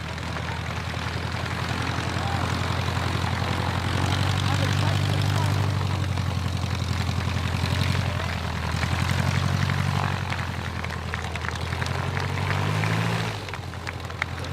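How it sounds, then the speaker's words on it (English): A propeller-driven light aircraft flies a display at the Tatenhill air show in England in July 2013, its steady engine drone rising and falling as it passes, loud and continuous, with a commentator talking over it. "The white aeroplane in front of you."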